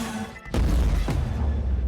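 A massive explosion set off by a gunshot in the animated series Arcane: a sudden deep boom with a second blast shortly after, followed by a low rumbling roar.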